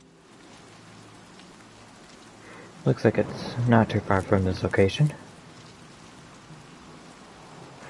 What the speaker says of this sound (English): The rain in this game is so nice.